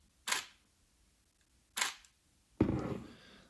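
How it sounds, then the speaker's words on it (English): A Nikon D850 DSLR shutter fires twice as sharp, separate mechanical clicks about a second and a half apart, followed by a longer clatter of movement, close and fairly quiet. "so here is how the D850 sounds."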